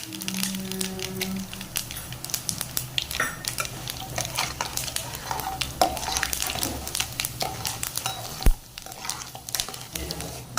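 Fenugreek seeds and urad dal sizzle in hot oil for a Tamil fish curry, with steady crackling frying noise and occasional clinks of a spoon stirring the pan, continuous and close.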